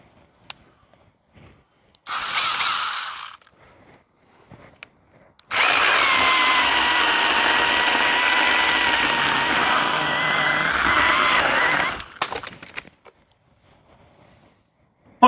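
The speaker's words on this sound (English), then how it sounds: "a little electric chainsaw like this cut through limbs that big with such ease" A small electric mini chainsaw whines briefly, then runs continuously for about six seconds as it cuts through tree limbs, its high buzzing steady before stopping abruptly amid quiet surroundings.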